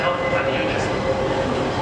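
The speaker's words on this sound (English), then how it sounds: "Meanwhile, arriving behind me is the train from Huddersfield." A passenger train from Huddersfield pulling into Sheffield railway station, a steady broad rumble and hiss of the approaching train with a faint tonal hum running throughout.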